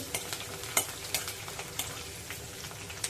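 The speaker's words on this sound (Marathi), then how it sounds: "आता त्यामध्ये आपण कढीपत्ता घालणार आहोत हे सर्व परतून घ्यायचं आहे" Garlic, green chilies and curry leaves sautéing in a pan, a steady oil sizzle broken by scattered sharp clicks and scrapes of a spoon stirring, close and fairly quiet with no talk.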